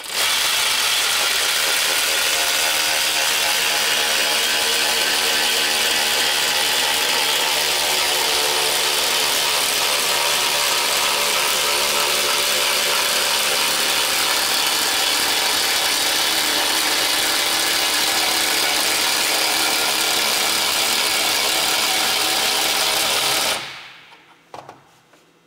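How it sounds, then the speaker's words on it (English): A powered ratchet, a cordless or impact type, drives an actuator screw to tighten an iron tire-changing frame, buzzing in a loud, steady whirring rattle for over twenty seconds before stopping abruptly near the end. "by rotating the actuator screw in the opposite direction, we'll tighten the frame, forcing the spoons underneath the tire."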